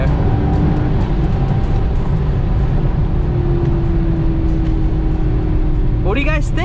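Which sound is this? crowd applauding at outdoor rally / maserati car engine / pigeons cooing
maserati car engine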